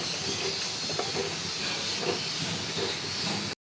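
Rice fries in a pot with cooked mutton for biryani or tehari, a steady, close sizzling hiss that runs evenly throughout before cutting off sharply.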